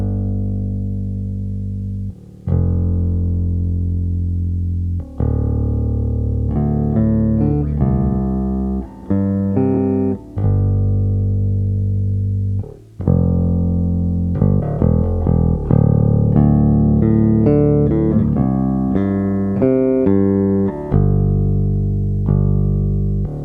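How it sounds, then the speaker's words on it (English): Bass guitar through a Urei LA-10 compressor plays a loud, even bass line of held notes and quicker runs, with smooth, steady level and no talk over it. "that's what it sounds like going through the Urei LA-10 compressor, which I find to be exceptional on bass guitar"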